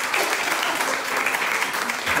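Dense, steady crowd applause at a women's night event in São Luís, close and continuous clapping with no talk.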